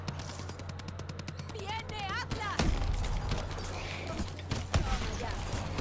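Rapid machine-gun fire sounds in Call of Duty Exo Zombies, with bursts of repeated shots at first and heavier impacts later. Players talk over the game audio.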